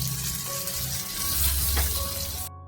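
Ribbon fish pieces frying crisp in a pan give off a dense, continuous sizzle close up, steady for a couple of seconds before cutting off abruptly.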